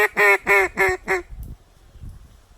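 A duck call is blown in a lower tone to imitate a different duck: four loud, evenly spaced quacks in quick succession, followed by near silence with faint handling noise.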